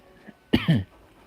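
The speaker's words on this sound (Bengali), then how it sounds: "ঠান্ডা পানি খাওয়ার কারণে আর কি হালকা কাশি হচ্ছে" A mild cough from a person in a cold room after drinking cold water: a faint throat sound, then one close double-burst cough, brief and alone.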